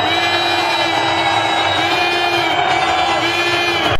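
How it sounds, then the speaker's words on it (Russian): Hockey spectators at an arena loudly protest the referee's penalties, a sustained roar of whistling, shouting and jeering that holds steady at full volume and cuts off at the end. "Зрители активно выражают свое негодование"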